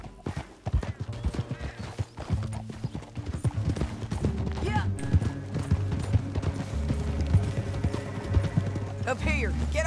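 Horses gallop in Red Dead Redemption 2 with a rapid, close clip-clop of hooves, a brief whinny among them and game music and voices running underneath.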